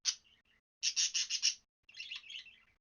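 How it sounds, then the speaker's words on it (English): Loud, bright budgie chirps come in bursts: a short call, then a rapid run of several chirps, then a busier chattering warble, all close with no talking. "Loud birds, budgies means they're happy."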